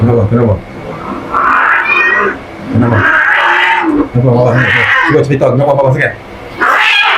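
A gorgon cat meows loudly and repeatedly during grooming, drawn-out yowls close by, while a person talks to it between the cries.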